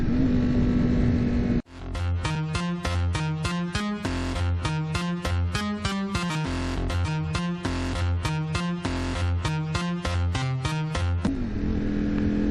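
A 2021 Ducati Streetfighter V4S motorcycle is revved hard in a rapid, rhythmic series of loud, close bursts, following a brief idle that cuts off abruptly.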